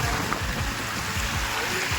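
Rainwater rushes steadily along a road after heavy rain, a continuous close-up gushing and trickling flow with no pauses.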